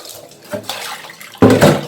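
Water splashes and pours over a stone wet grinder being rinsed and cleaned, with a short splash followed by a louder, close rush of water toward the end.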